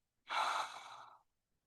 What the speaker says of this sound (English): open your mouth, exhale slowly